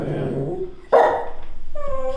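A senior dachshund suffering from IVDD lets out a sharp bark at close range, followed by a higher whining yip, with people talking before and around it indoors.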